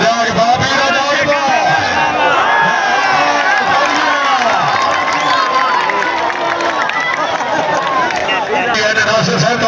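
A loud crowd at a local sports final in a stadium cheers, whoops and shouts continuously, a dense roar of many voices with children's shouts mixed in and some clapping beneath.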